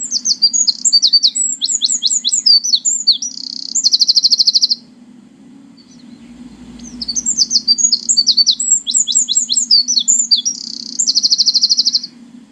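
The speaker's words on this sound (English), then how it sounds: "The answer is the wren." A wren sings two loud, rapid phrases of high trilling notes, each ending in a sustained buzzy trill, separated by a short pause over a steady low hum.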